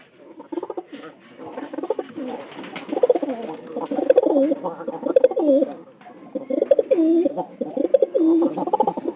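Pigeons coo close by in repeated low, throaty rolls, several birds overlapping in bursts with short pauses between.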